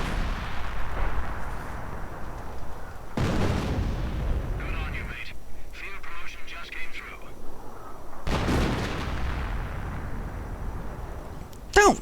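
Artillery fire and gunfire in a World War II real-time strategy video game, heavy booming blasts arriving in bursts with quieter stretches between, under an excited commentator's voice.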